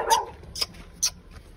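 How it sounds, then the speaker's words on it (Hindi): A dog on a street in a Pakistani or Indian neighbourhood gives three or four short, sharp barks or yips, moderately loud and spaced out, with no talk over them. "ये दूसरा कुत्ता आ गया"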